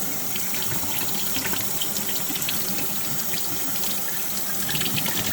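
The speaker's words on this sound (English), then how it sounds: "you get some cold water running, rinse off the outside" Cold tap water runs steadily into sausage casing for South African boerewors, a continuous close hiss and splash of water with no break and no talking.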